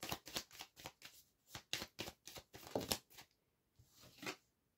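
Tarot cards shuffled by hand at close range, a steady run of crisp riffling bursts in quick rhythm before the sound thins out into a few softer slides as a card is drawn.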